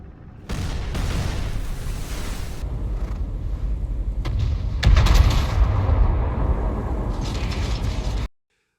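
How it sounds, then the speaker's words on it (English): Naval artillery from Japanese battleships and cruisers firing at long range, heard as heavy booming blasts and rumbling roar with a sharper, louder burst midway, sustained and dense with no speech. "Japanese battleships and cruisers opened fire at long range."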